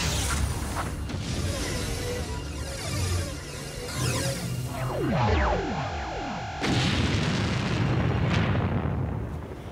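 A Panzer S-1 air defense missile system firing in a dramatized alien-attack scene, with booming launches, rushing whooshes and sweeping pitch shifts layered over a dense, loud rumble.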